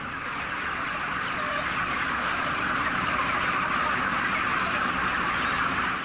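Chickens crowded in an intensive poultry production unit, a dense, steady wash of clucking and fowl calls filling the space continuously throughout, fairly loud and without speech.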